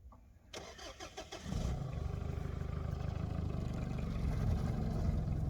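A car engine cranks briefly, then catches and settles into a steady, loud idle that fills the rest of the moment, heard close by in an outdoor setting where small trees are being pulled out.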